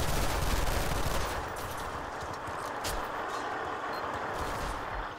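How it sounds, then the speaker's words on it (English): Covering gunfire in the video game F.E.A.R. 3, a dense continuous burst of rapid automatic shots with a heavy rumbling roar, loud and steady throughout. "Lay down covering fire!"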